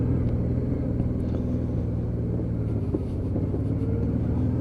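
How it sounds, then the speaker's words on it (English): A Honda Deauville motorcycle ridden on the way back to the garage gives a steady, close, low engine drone with constant road rumble throughout. "So nice little Honda Deauville."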